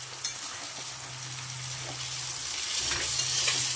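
Bhola fish and vegetables fry in a hot pan, giving a steady crackling sizzle with a low hum underneath that grows slightly louder toward the end, with no voices.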